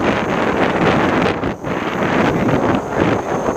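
Steady wind roars against the microphone, a constant broadband rush with a brief dip partway through, loud and close throughout, outdoors at a model helicopter flight.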